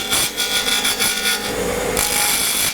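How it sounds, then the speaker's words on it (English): Edge of a tool cutting into an acrylic blank spinning at high speed on an American Beauty wood lathe, a steady close scraping, rubbing hiss that runs the whole time with a slight dip partway through. "So we're going all the way to the top with our American Beauty lathe."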